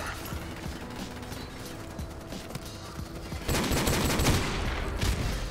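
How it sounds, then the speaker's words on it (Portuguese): A grenade explosion and bursts of gunfire in Call of Duty: Modern Warfare Remastered, a rattling volley of shots under mechanical clatter, then a loud blast about midway with a rumbling tail. "Agora foi a granada."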